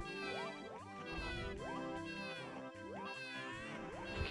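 A cat-like meowing creature from the Super Mario 64 video game repeats a series of short, rising, tonal game-sound cries in a steady rhythm, layered over bright synthesized background music.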